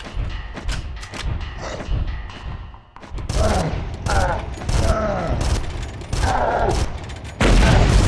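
Repeated gunshots and bursts of fire in Far Cry (PC, 2004), loud and close, shot after shot with heavy thumps, while someone talks over the shooting.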